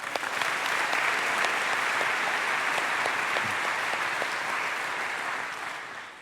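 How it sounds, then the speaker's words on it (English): A large crowd applauds at a university State of the University address, a sustained, even roar of clapping filling a big hall for about six seconds before it begins to taper off at the end. "please give them another round of applause"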